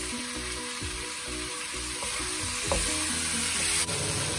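Four boiled medium-sized potatoes drop into a pot of cooking prawn chowder (chupe de camarones), giving a steady sizzle and bubbling with soft stirring scrapes and a couple of thuds, close and continuous.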